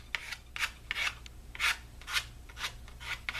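A card scrapes raspberry-coloured paint across a canvas in rhythmic rasping strokes, about a dozen close, dry swipes with brief gaps between them.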